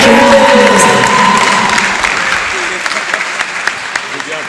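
A crowd applauds loudly and steadily at a national youth dialogue on reforms in The Gambia, the clapping gradually thinning and fading toward the end.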